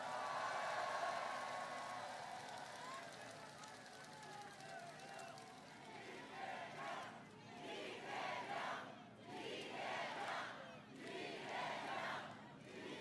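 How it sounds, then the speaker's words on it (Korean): A crowd at a political rally for a presidential candidate in Bupyeong, South Korea roars, cheers and applauds loudly, with rhythmic surges of chanting and clapping that rise and fall in waves, filling the space. "함께한 동지들을 위해서 박수 한번 부탁드립니다."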